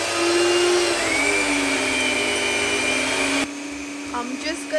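An electric mixer beats chocolate cake batter flavoured with coffee and vanilla, giving a loud steady whine that drops abruptly to a lower, quieter hum near the end.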